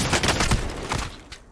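Gunfire in a battle royale video game: dense, loud volleys of rapid shots that run almost continuously for about a second and a half before tailing off.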